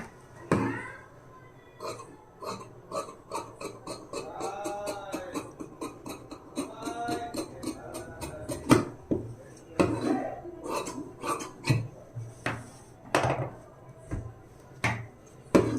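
Scissors snip through blouse fabric along a curved cutting line, a steady series of close, crisp clicks and metallic snaps with no talking.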